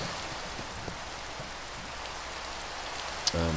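Steady rain falls by a river in Minecraft, a dense, even hiss of drops spread across the whole stretch with no talking, and a faint click near the end.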